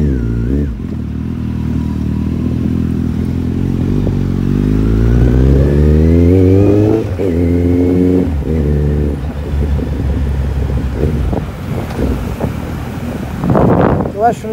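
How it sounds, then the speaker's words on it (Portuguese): A heavy motorcycle roars while riding through city streets, its engine climbing in pitch as it accelerates, then dropping and pulsing through gear changes, loud and close under wind buffeting. "Eu acho legal o ronco da moto"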